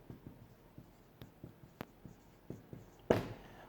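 Teacher drawing a table by hand during a Year 8 maths lesson: a run of short, close scratchy writing strokes in an uneven rhythm, ending in a louder scraping stroke, with no talk.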